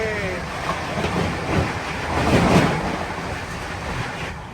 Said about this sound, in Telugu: మిలీనియం ఎక్స్ప్రెస్ రప్పని వెళ్ళిపోయింది